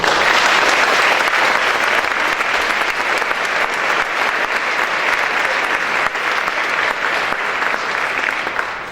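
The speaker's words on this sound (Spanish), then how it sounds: "Procedemos ahora, vamos a aplaudir." Audience at a judicial event applauding, a steady wash of many hands clapping, loud and continuous, with no voices over it.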